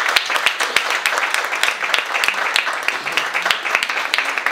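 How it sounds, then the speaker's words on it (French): Festival crowd applauding to welcome poets at the opening of a Black History arts festival: loud, dense clapping with sharp individual claps standing out, sustained throughout with some voices mixed in. "Donc avec un tonnerre d'applaudissement, je vous demande de recevoir Chef Ella et de nous parler."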